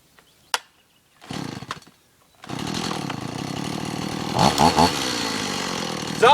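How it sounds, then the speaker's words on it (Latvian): A chainsaw being started outdoors for felling a tree: a sharp pull click and short sputters, then the engine catches and roars steadily, with revving surges near the end. "Es tūliņ darbināšu zāģi."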